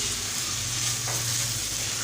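Onion, chili pepper and garlic fry in a pan, giving a steady, dense sizzle with soft stirring, close and even throughout, with no speech.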